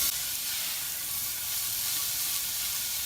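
Onions and garlic fry in a hot pan as the base for a risotto, giving a steady, even sizzle and hiss that runs unbroken throughout with no voices.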